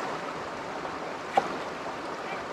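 River water flows at an outdoor riverside cooking spot as a constant, even rushing wash, broken once by a single sharp click partway through.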